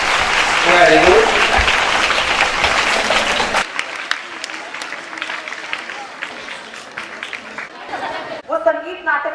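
Audience at a Hindi theatre lecture and troupe felicitation clapping loudly in a dense burst for the first few seconds, then thinning into scattered claps under crowd chatter, with a voice rising near the end.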